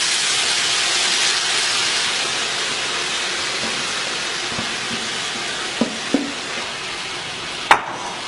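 Vegetables and noodles being stirred and tossed in a hot pan, giving a steady sizzling hiss throughout with a few brief scrapes and clinks of the utensil near the end.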